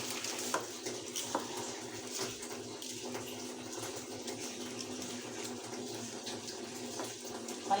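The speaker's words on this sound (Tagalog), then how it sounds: "Nilagay na natin yung spaghetti sa kumukulong tubig." Spaghetti cooks in a pot of boiling water, giving a soft, continuous bubbling and watery hiss at close range with small clicks and stirring knocks, and no talking.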